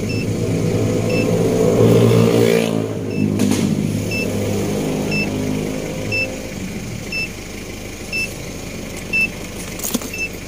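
Mazda diesel car engine idling on a turbo timer after installation, a steady close rumble with a dip and clunk partway through, then continuing low idle alone.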